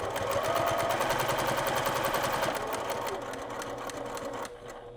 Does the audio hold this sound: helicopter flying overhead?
no